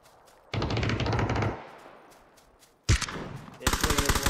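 Automatic gunfire in a squad-based shooter game: a sustained one-second burst, a pause, then renewed rapid fire growing denser toward the end, loud and close, with voices talking in the background.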